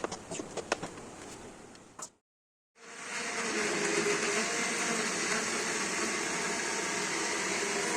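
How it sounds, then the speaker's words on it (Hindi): An electric blender whirs through mango chunks with cream and sugar, a short burst that stops for a moment and then resumes as a loud, steady grinding roar. "यहाँ पे हमने ब्लेंडर में ब्लेंड कर लेना है"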